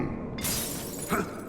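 Glass shattering in the game Dishonored 2, a single sharp bright crash with scattered tinkling fragments, close and loud, no talk.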